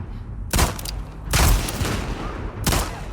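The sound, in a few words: gunshots in video game The Last of Us Part II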